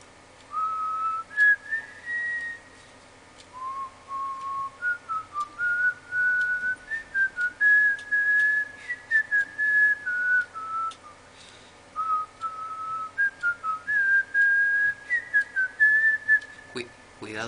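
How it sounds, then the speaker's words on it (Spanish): One person whistles a meandering tune in short bursts, near and clear against a quiet background, with a few soft knocks. "Yo voy a ir silbando para que me puedas ver por dónde voy."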